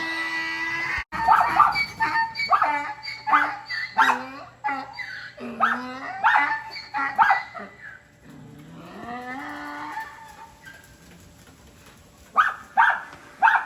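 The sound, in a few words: dog barking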